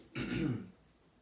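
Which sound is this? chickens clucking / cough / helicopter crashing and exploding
cough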